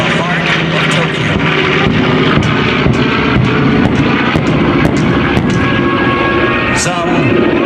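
B-25 Mitchell bomber "Panchito" flying at the Joint Base Andrews air show, a loud, continuous rumbling drone of radial piston engines filling the air while an announcer talks over it on the PA.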